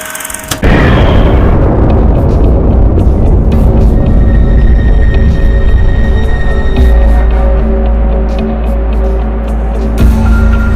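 A huge, deep explosion of the first nuclear bomb test in a New Mexico desert bursts out suddenly, then a long low rumble rolls on and lingers loudly for several seconds.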